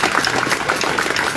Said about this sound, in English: So I give them a big round of applause.